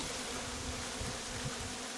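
Young honeybees hum inside an opened Layens hive of mixed Spanish bees during a summer inspection, a soft, continuous low drone with slight flutter, faint and steady, with no one speaking.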